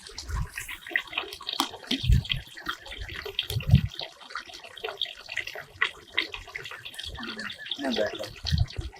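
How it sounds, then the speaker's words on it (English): Water running from pipes that emerge from bamboo outdoors beside a garden path, a steady splashing flow with several louder gushes close by. "Might get a shot of the water pipes coming out of the bamboo"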